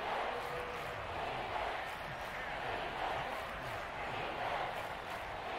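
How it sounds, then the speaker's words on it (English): In Madden NFL 23, a loud stadium crowd at the Caesars Superdome chants defense during a Falcons at Saints game, a dense, rhythmically pulsing roar that continues without a break. "There's a loud crowd here this afternoon in the Mercedes-Benz Superdome."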